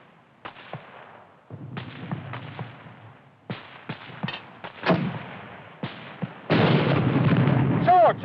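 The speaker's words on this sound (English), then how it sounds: "Hurry up with that mortar!" Mortar fire and explosions in a WWII battle scene, with repeated sharp booming blasts and rumbling detonations at varying distances, building to a dense, loud burst near the end.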